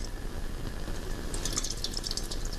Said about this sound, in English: I'm going to add just a small amount of water to it.